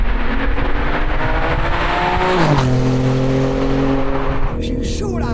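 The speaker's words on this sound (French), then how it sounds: "Ça va tellement vite que j'ai même pas le temps de passer les rapports. Je freine." BMW M3 G80 tuned past 700 horsepower accelerating hard, engine pitch climbing steeply before dropping sharply under braking, loud and close from inside the car, with a faint tire or skid sound near the end.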